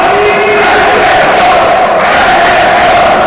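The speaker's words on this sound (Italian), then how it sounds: "Si alza il coro dei tifosi delle Leonesse" Football fans of the Leonesse team chant as a loud, sustained roar from a stadium crowd during a women's match between Tuscany and Veneto, with tonal sung voices rising over steady crowd noise.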